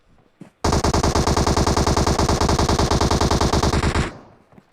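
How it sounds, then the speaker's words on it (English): Sustained automatic gunfire in a PUBG esports match on the Sanhok map, a loud, continuous rapid burst lasting several seconds before cutting off, with no talk over it. "RF Bakogu here getting some more shots"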